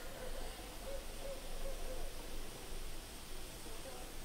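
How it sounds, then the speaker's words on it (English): A recorded owl call plays faintly, with a few soft, evenly spaced hoots barely rising above a loud, steady wash of hissing noise. "I'm going to share the owl hooting"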